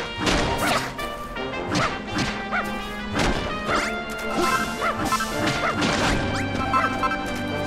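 Blocks are smashed in the Dragon Quest Builders 2 video game, a series of sharp crunching hits spaced irregularly over a bright musical background, with small chimes and pickup sounds between impacts.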